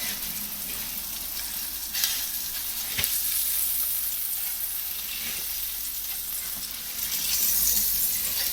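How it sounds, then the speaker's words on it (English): Steak sizzles in butter in a pan, steady sizzling and frying hiss filling the clip, with a couple of sharp clicks and crackles, close and fairly loud, no talking. "I'm going to let it sizzle for a minute first"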